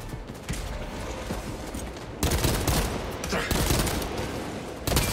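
Dense, sustained gunfire in a video game, loud and close, with rapid overlapping shots forming a continuous fusillade that surges louder partway through.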